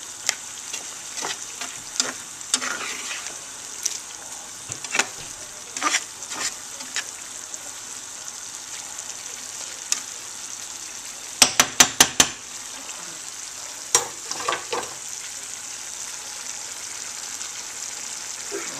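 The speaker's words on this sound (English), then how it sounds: "Like this, stirring it occasionally." Corn maque choux fries in a pan with a steady, close sizzle, while a utensil stirs and scrapes intermittently, including a quick burst of sharp clacks partway through.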